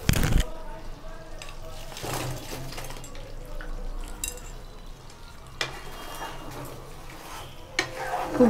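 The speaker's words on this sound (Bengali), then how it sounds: "ভাজা চিকেনগুলো দিয়ে দেবো।" Fried chicken wings go into a pan with sauce and are stirred, giving scraping utensil strokes and knocks over a low sizzle, with a sharp clatter at the start and a few louder knocks later.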